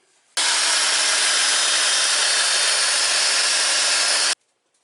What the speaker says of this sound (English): It's called a mag drill.